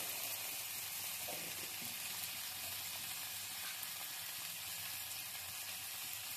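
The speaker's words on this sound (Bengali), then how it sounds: "এবার এটা একটু ভেজে নিচ্ছি।" Ground turmeric and homemade red chilli powder fry in a pan, giving a steady, even sizzle that runs unbroken throughout at a moderate level with no voices.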